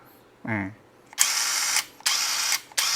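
OSUKA OCID821 cordless impact driver test-run in three loud hammering bursts, each lasting about half a second, after a brief spoken word.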